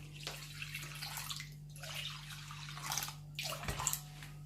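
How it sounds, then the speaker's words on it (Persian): Warm water trickles and splashes in small pours into a bowl of flour dough for Afghan mantu, faint and intermittent over a steady low hum, without speech. "البته آب گرم کم کم اضافه میکنیم، یعنی در حد نیازمون."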